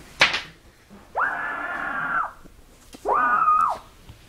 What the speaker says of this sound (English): scream into this blanket.